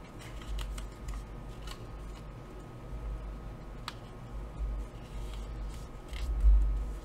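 Scissors snipping small wedges from an old book page, a soft run of quiet crisp snips and paper rustle, close and steady with no talking.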